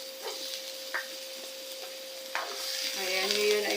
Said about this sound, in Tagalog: Bawang, sutake lang natin yung bawang. Tapos sutake na rin natin yung sibuyas.